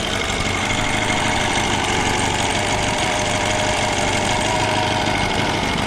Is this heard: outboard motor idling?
yes